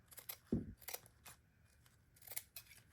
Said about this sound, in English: I just came down here and just trimmed off those tails very carefully